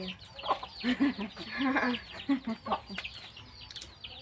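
Chickens cluck repeatedly at close range outdoors, a rooster among them, with irregular bursts of clucking and background farmyard noise.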